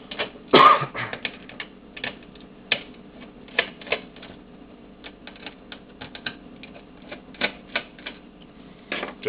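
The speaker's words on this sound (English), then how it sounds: "Got to remove all 4 of these screws here." Screws being worked out of an Xbox 360 BenQ DVD drive produce a series of sharp, close clicks and small metallic ticks, spaced irregularly over a low steady hum, with one louder clatter near the start.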